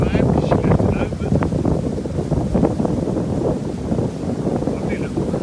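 Strong wind buffets the microphone beside the Great Ouse river near Godmanchester in a storm, a loud, constant roaring rush with gusty swells throughout, and a voice briefly speaks under it.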